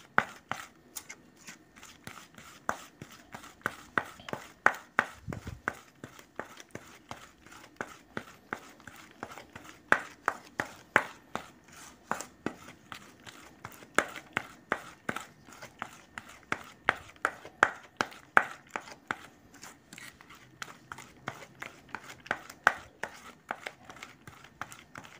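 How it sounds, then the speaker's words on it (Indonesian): Carp fishing bait mixture being stirred and mixed by hand, a steady run of crisp crunchy scrapes and clicks repeating throughout at close range, with no one talking. "Jangan bosan untuk mengaduk-aduk."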